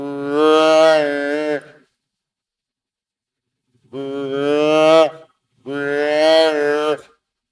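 A person's voice imitates a fawn's bawl, an emotional, upward-pitched deer call given in three long drawn-out cries separated by pauses, close and clear with no other sound.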